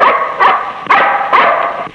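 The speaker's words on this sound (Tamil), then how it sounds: "அதுதான் எங்க வீட்டு நாய் இந்த கத்து கத்தி இருக்குது" A dog in a 1959 Tamil film barks sharply four times in a quick, steady rhythm, loud and close, with a hoarse, yelping tone.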